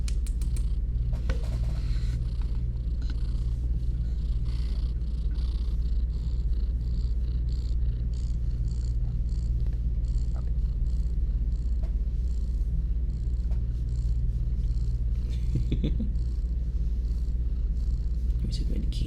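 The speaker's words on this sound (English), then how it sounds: "I have my gremlin of a cat right next to me. She is purring loudly." A pet cat purrs loudly and steadily right beside the microphone, a continuous low rumble running throughout with light rustles and faint clicks over it.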